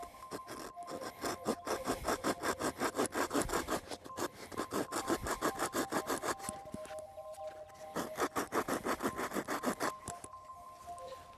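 A notch is cut into a wooden bow drill fireboard with a hand tool. Rhythmic rasping strokes run back and forth in steady bursts with brief pauses between them. The sound is close and fairly quiet.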